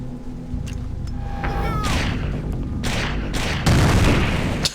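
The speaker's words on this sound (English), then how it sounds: "I might try a grenade here." Grenade blast and ensuing gunfire in the stealth shooter Splinter Cell, a loud booming burst with crackling debris and rapid shots, intensifying toward a heavy thump near the end.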